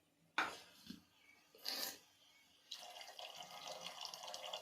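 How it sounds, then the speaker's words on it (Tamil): Water poured from a tap or jug into a pot while making semiya upma comes as short splashy bursts and then a steady, close, rushing pour with no talking. "தண்ணி ஊற்றிங்க."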